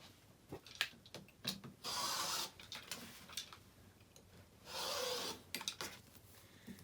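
A rotary cutter slicing through quilt fabric on a mat, two drawn-out rasping strokes near the microphone, set among light taps and handling of a ruler and cloth.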